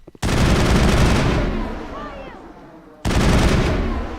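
Sniper gunfire in the Mass Effect 1 video game: a sharp, loud shot cracks out and rings into a long fading tail, then a second heavy shot follows about three seconds later.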